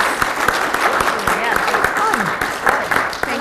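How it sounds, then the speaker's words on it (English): Audience applause at a storytelling session during a conference, a dense steady patter of many hands clapping for several seconds with faint voices mixed in. "Let's give a round of applause."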